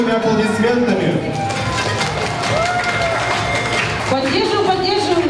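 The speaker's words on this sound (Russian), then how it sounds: "Встречаем бурными аплодисментами." A school farewell ceremony for graduating fourth-graders fills with steady crowd applause, dense clapping running under music and an announcer's voice throughout.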